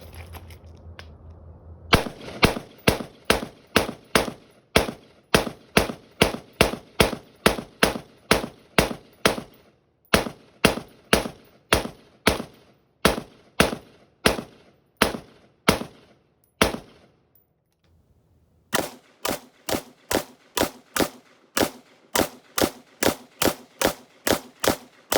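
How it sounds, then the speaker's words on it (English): An AK rifle fires through a full magazine: dozens of sharp, loud shots in rapid, fairly even bursts, with one short pause midway and a longer break before a final fast string of shots. "So I'm gonna blow through all these magazines and we'll see what happens"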